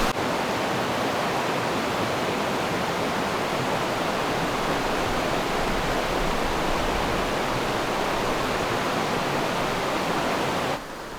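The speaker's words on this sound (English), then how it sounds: "this river just happens to be along the way" A river flows along the way to the coast, a dense, constant rushing of water that stays loud and even throughout, then drops slightly at the very end.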